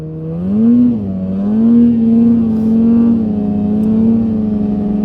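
Polaris Indy 550 snowmobile engine running close by, a loud steady buzzing drone that swells and dips slightly with throttle over a few seconds.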